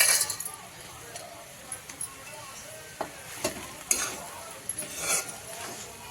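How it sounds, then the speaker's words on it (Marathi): A sauteed mixture is stirred in a pan, with faint sizzling under scattered clinks and scrapes of a utensil against metal, quiet and close. "हे थोडं थोडं याच्यामध्ये घालून घ्यायचं सगळं थोडं हलवून घ्यायचं"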